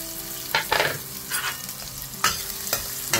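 Chopped onion and ginger sautéing together in a modest amount of cooking oil in a pan as the base for cooking mussels: a soft continuous sizzle broken by a few scraping stirs, close and fairly loud, no talking.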